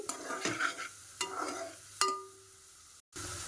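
Chillies and curry leaves with a pinch of turmeric sizzle in hot oil in a pan, broken by several scraping stirs of a spoon and a brief pause before the frying resumes.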